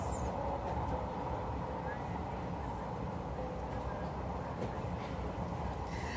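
A steady, loud rumble of a passing train near downtown Los Angeles fills the whole stretch, with rolling low-end noise and faint higher clatter throughout.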